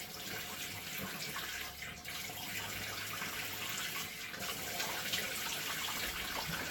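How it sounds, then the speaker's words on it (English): Hot water runs steadily from a tap, a constant broadband hiss and splash that fills the whole stretch at a close, even level, with no one talking, as water is readied for a head shave. "first I'm going to go ahead and put some hot water on the head here"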